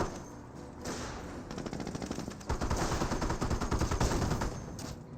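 Greyhound armored car gunfire in Company of Heroes, rapid machine-gun bursts building from sparse shots to dense sustained fire, loud and close, with no talking.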